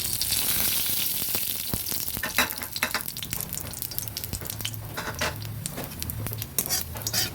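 Black cumin seeds fry in a pan for pumpkin-leaf bharta, with a steady broadband sizzle and frequent sharp scrapes and clinks of a spoon stirring against the metal, close and continuous with no talking.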